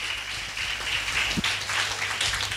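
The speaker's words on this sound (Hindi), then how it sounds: "एक बार पुनः जोर से ताली बजाए जोर से जोर से जोर से" A church congregation at Grace Church, Kurda, claps loudly together, a dense, steady wash of many hands that holds at full volume throughout.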